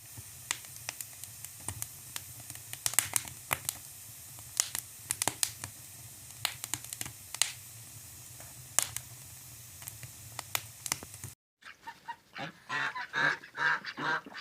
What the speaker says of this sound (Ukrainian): Гусочки качечки їдять.